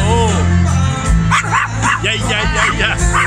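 Small dogs barking in a garden in Pattaya, a series of sharp yips and barks in quick succession with a person talking over them.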